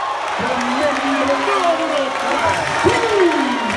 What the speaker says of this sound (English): And the Wilson crowd goes wild.